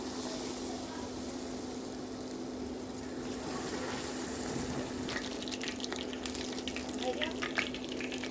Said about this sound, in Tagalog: let's fry the remaining